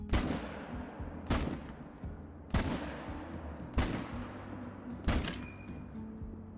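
A rifle in the hunting game Call of the Wild fires at a capped rate, with five loud single shots spaced about a second and a quarter apart, each one ringing out with a long decaying tail.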